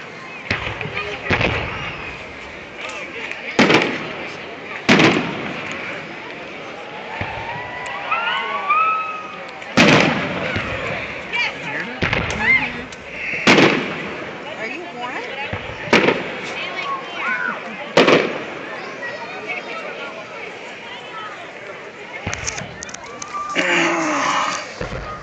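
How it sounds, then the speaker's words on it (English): Fireworks burst repeatedly at an outdoor Heritage Days festival in Belvidere, Illinois: sharp, loud booms every couple of seconds with crackling and whistling trails between them, over a murmuring crowd. "what do you think of the fireworks so far?"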